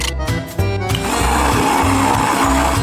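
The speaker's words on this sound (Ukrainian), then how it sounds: "Далі картоплю потрібно зварити, після чого закинути в блендер і перетворити її на пюре." A kitchen blender purees boiled potatoes, its motor whirring loud and steady after a brief stop-start at the beginning.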